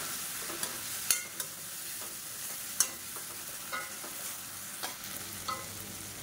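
A ground paste of shallot, garlic and ginger is sautéed in a pan with a soft, steady sizzle, while a spoon scrapes and stirs in occasional sharp clicks, fairly quiet and without talk.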